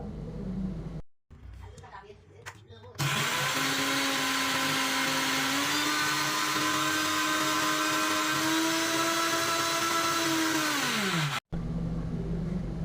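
A mixer grinder whirs loudly and steadily for several seconds grinding chutney paste with a little water, its motor pitch rising slightly, then cuts off abruptly; brief clattering before it starts.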